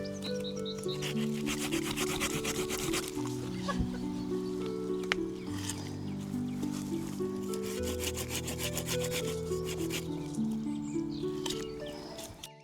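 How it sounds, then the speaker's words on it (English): A handsaw cuts through thick plum tree side shoots with repeated rasping back-and-forth strokes, close by, beneath steady background music. "you'll cut down all of these side shoots, ideally with a handsaw"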